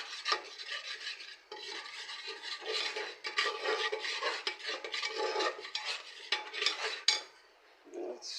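Continuous scraping and stirring in a pan, a spatula rasping against metal as fried potatoes and chicken are tossed and mixed, with steady sizzling underneath.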